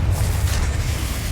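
A Confringo fire-spell blast from Hogwarts Legacy detonates as a deep, loud, rumbling boom that fills the whole moment with dense low roar and no voices.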